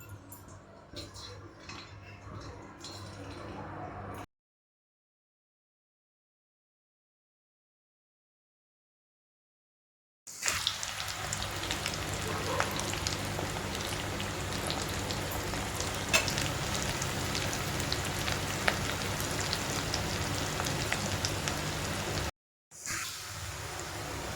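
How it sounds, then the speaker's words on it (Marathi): Potatoes deep fry in oil for dum aloo, giving a steady hissing sizzle with light clinks of utensils. The sizzle breaks off for several seconds of silence in the middle, then resumes. "तळून घेण्यासाठी आपण पाटीमध्ये आता तेल टाकलं आणि बटाटे या प्रकारे आपण तळणार आहोत."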